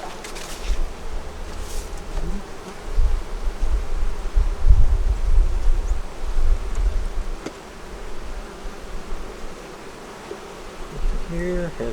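Agitated honeybees swarm around an open hive in changed weather, filling the air with a dense, continuous close-up buzz that swells and fades, with some wind noise.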